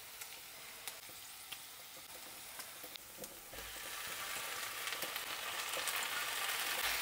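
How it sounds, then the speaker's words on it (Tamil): Keerai greens sautéing in a pan make a quiet hiss dotted with small crackles and taps, then a fuller, louder sizzle swells up midway and holds, close by, with no speech. "ஸோ கீரை இருந்து கொஞ்சம் வதங்கட்டு."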